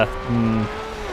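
Porsche 914/6 rally car in Forza Horizon 2, a short tire squeal as the car loses grip, with a steady engine tone underneath, near and fairly loud.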